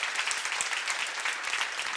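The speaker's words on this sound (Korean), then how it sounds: "박수 세게 쳐봐요." A congregation at a church seminar claps hard and fast, producing dense, energetic applause that fills the short clip without talking.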